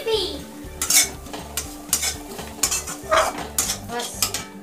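Grated coconut being stirred and roasted in ghee, a spoon scraping the pan in repeated rhythmic strokes over a soft sizzle, close and fairly loud with no voices.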